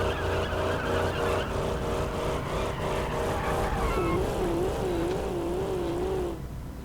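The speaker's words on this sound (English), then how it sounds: "This engine sounds great, by the way." A car engine revs hard and loud, its pitch rising and wavering as the wheels spin, then cuts off abruptly.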